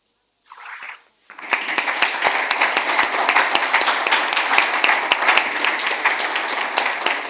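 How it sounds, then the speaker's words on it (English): An audience at a conference applauds after a talk on open-source software security, and a dense, steady wash of clapping starts after a brief faint noise and continues strongly to the end. "I saw people clapping"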